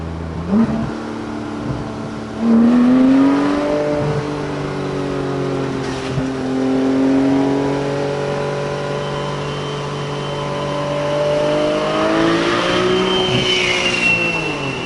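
A Porsche 991 GT3 with a Brombacher side muffler, valve delete and OEM center muffler drives past nearby, its flat-six rising and falling through steady revs with sharp throttle swells, loud and alone for about fifteen seconds.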